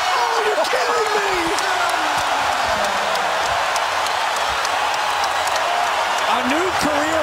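Basketball arena crowd during an NBA game between the Warriors and the Kings, a dense, sustained roar of cheering and applause across the whole span, with a commentator's excited voice riding over it.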